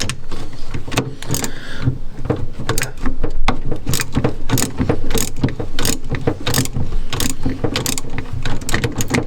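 Rapid ratchet clicking in quick bursts, loud and close, removing the negative battery lead on a classic Fiat, with short pauses between runs of clicks and a faint metallic rattle.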